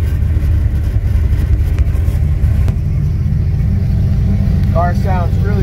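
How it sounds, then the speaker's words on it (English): Junkyard turbocharged 351 Windsor V8 idling around 800 rpm after a rocker arm swap, a loud steady low rumble running continuously, with someone speaking briefly near the end. "Car sounds really good."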